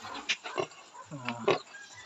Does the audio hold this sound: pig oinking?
yes